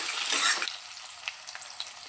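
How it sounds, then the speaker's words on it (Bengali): Sliced onions frying briefly in hot oil in a home kitchen, a loud broadband sizzle that swells in the first half-second, then settles into a softer steady crackle with small pops. "পেঁয়াজটাকে হালকা একটু 2 থেকে 3 সেকেন্ডের মতো একটু তেলের মধ্যে ভেজে নেব।"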